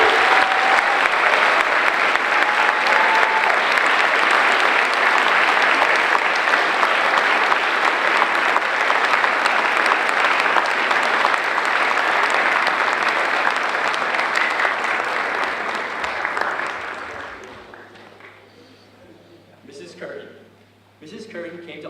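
A school class night crowd gives a sustained, loud round of applause for teacher Mrs. Hadge, steady for about fifteen seconds before fading out into quieter room sound with some talking.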